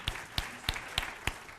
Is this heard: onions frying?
no